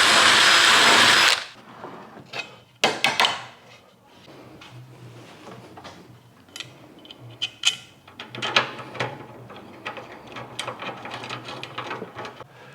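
A power drill boring a 6mm hole in a seat jig for a Golf mk2 interior upgrade, with a loud burst of drilling at the start followed by quieter ratcheting, clicking and tool handling nearby.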